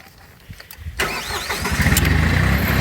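A Vermeer CTX-160 compact track loader cranks and catches, its diesel engine rising from a short starter whir into a loud, steady close idle rumble.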